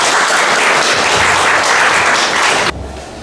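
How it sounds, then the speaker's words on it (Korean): An audience bursts into dense, loud applause to welcome a speaker at an indoor talk, the clapping sustained for a few seconds before dropping off abruptly. "우리 진청규 선생님을 큰 박수로 맞이해 주시기 바랍니다"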